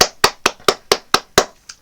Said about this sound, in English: Can we get a round of applause for Barnaby here?